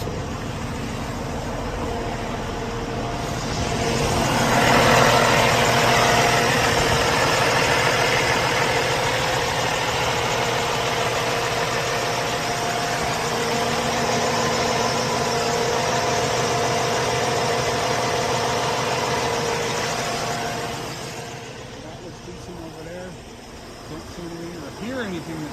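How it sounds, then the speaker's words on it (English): A 2016 Kenworth T680 truck engine idling hot, a steady low rumbling drone with mechanical vibration, swelling slightly louder midway before easing off near the end, heard up close. "have a listen to the engine running"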